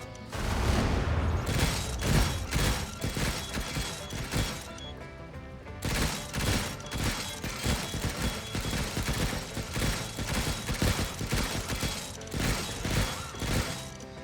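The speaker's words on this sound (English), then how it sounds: "Gotta do a couple barrages." Artillery barrages in the survival strategy video game Stranded: Alien Dawn, at a military outpost: dense, continuous rumbling volleys of explosions and impacts, loud and sustained throughout, with a brief lull near the six-second mark.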